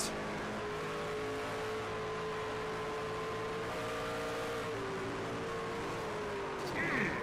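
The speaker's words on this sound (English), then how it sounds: "listen in, this is going to be a heavy hit" A racing truck on the Bristol Motor Speedway oval in a racing video game, heard from onboard: a steady, loud engine drone with shifting pitch, then a sharp crash into the wall near the end.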